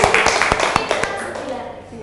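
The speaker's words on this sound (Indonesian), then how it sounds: "Iya, bagus sekali, tepuk tangan." Students in a classroom clap together in a quick, rhythmic burst of sharp, evenly spaced claps up close, fading out after about two seconds.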